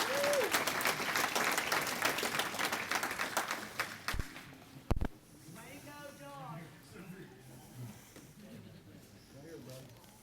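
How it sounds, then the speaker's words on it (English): An awards banquet audience at Lonesome Pine Raceway applauds the Rookie of the Year, loud sustained clapping that fades after a few seconds into a voice speaking over a quieter room. "Give him a round of applause."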